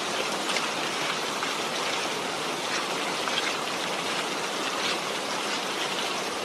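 Steady, dense hiss of heavy rain falling, constant throughout with no pauses or voices.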